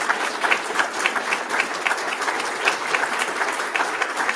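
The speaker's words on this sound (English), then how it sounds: "Let's give a big round of applause for Dr. Larson" Steady, dense applause from an audience after an evening book talk with historian Edward J. Larson, many hands clapping together without pause, fairly close and filling the room.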